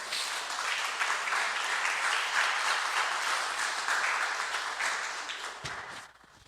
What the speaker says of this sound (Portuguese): Vamos dar uma salva de palmas para Jesus, irmãos.